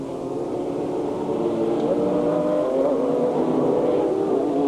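A Formula Holden race car runs down the back straight at Amaroo Park in 1989, heard as a steady engine roar from a moderate distance that holds level over several seconds.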